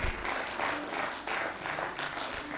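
An audience claps at a Hindi comic poetry gathering, rapid dense clapping in several short bursts that rise and fall across a couple of seconds.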